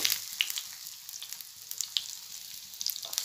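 Pieces of vanjiram fish with Andhra masala fry in oil in a small pan, giving a close, continuous crackling sizzle with sharp pops scattered throughout.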